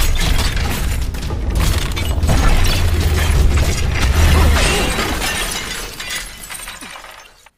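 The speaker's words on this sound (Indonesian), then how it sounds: "Mereka mencoba dorong-dorongan meja teh yang terbuat dari kaca. Dan akhirnya kaca itu pun pecah." A glass tea table shatters during a fight scene in the film Ip Man 4: a loud, dense burst of breaking glass and crashing impacts that sustains for several seconds before trailing off into scattered debris.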